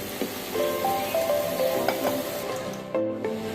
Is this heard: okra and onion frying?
yes